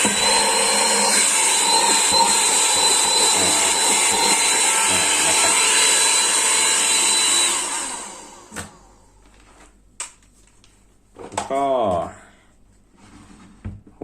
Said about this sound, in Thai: เป็นเครื่องดูดฝุ่นนะครับ12 โวลต์นะครับ